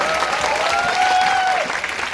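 Steady audience applause fills the whole stretch at a leadership development program event in India, dense continuous clapping with a faint tonal whine running through it and no clear speech.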